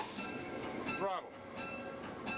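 A locomotive on the Wyoming Colorado Railroad runs at throttle notch one. Its faint low rumble sits under a quiet cab ambience, with a brief rising squeal about a second in.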